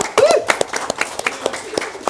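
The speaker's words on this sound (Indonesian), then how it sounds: "tepuk tangan untuk Cak Percil." An audience at an Indonesian comedy talk show applauds with steady, fairly loud clapping that carries through about two seconds, a few sharp individual claps standing out and a brief voice near the start.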